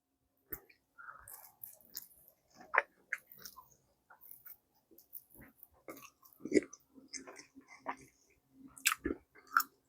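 Someone chews a homemade beef and cheddar sandwich, with close, wet, irregular bites and crunches coming in bursts across the whole stretch, loud at times and otherwise quiet between mouthfuls.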